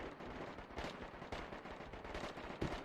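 Heavy guns firing in a chaotic battle, a steady rumbling barrage of overlapping bursts and booms at mid distance, with sharper reports standing out now and then and no one talking.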